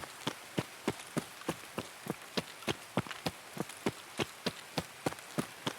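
Night rain in the video game Escape from Tarkov makes a soft, steady hiss, heard faintly behind a regular run of quick footfalls.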